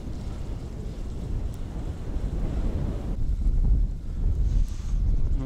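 Strong wind gusts over a river during a fishing trip on a boat, buffeting the microphone with a heavy low roar that swells and surges, with no talking.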